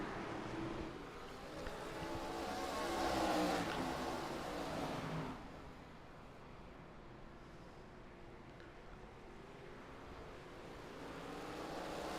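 Stock cars in a racing video game at North Wilkesboro roar around the track, a broad engine drone swelling louder for a few seconds, then easing into a steadier, quieter hum with no talking.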